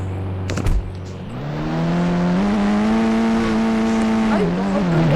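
A Mahindra Scorpio Classic SUV engine rises from idle into a steady drone as the vehicle pulls away and drives on, loud and close, with a brief clatter near the start and the engine note climbing and holding.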